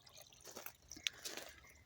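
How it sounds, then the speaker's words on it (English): A backyard water fountain in a high desert yard trickles and drips softly, with a few faint, irregular plinks of falling water over a quiet outdoor background. "Clean the water fountain out real well, so that way it has a good flow."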